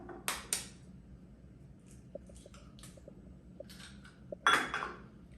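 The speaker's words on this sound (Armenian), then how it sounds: "Հիմա ավելացնում ենք 3 ձու," Three whole eggs cracked into a butter and sugar mixture, with a few sharp clinks and taps against a bowl, small drips and a final louder clatter, close and quiet.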